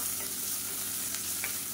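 Moringa (drumstick) leaves sauté in a hot pan with a constant soft sizzle and light stirring throughout, steady and close with no voices.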